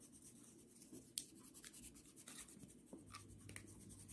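Coloured pencils scratch across paper while colouring a drawing of a muscle in red, a faint, close, continuous scribbling with a sharp tap partway through.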